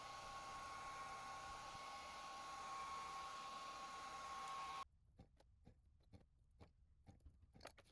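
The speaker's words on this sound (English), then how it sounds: "I'm going to run the hairdryer over the lure again before I take off the mesh." A hair dryer blows steadily over a freshly painted fishing lure with mesh on it, a loud even whoosh with a faint whine that cuts off abruptly, followed by a few small clicks and taps.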